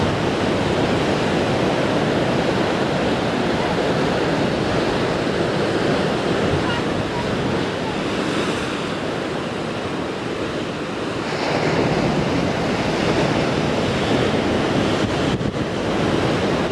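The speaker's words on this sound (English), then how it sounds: "Overlooking is a fantastic Atlantic Ocean, also Gulf of Guinea." Atlantic Ocean surf on the Gulf of Guinea coast below Cape Coast Castle, a loud steady wash of breaking waves with wind buffeting the microphone throughout and no voices.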